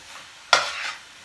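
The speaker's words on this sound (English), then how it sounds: "Lower the flame, mix it well." Spices being stirred into chicken curry over a low flame: one short, sharp scrape with a burst of sizzle that fades within half a second, set against near quiet.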